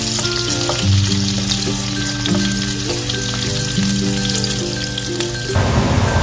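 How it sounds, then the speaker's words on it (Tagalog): Onion sautéing in hot oil in a pan, a loud close rain-like crackling sizzle that holds steady throughout, with a faint tonal hum running underneath and no voices. "igisa natin ang onion hanggang sa hindi mag-light brown"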